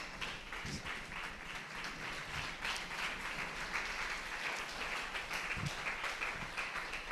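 A seated crowd at a secondary school debate, the Foundation Debate, stands and applauds the students, giving a steady wash of clapping that stays at an even level throughout.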